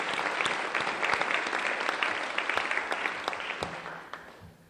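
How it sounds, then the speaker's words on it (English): An audience at an all-academic meeting claps in thanks, a steady wash of applause that fades toward the end. "Let's give them a thank you applause too"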